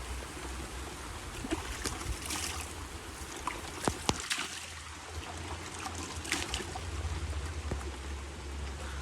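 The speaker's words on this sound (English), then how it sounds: "The rain is coming now!" Steady wash of falling water with scattered louder drips and splashes, continuous and close, no voices.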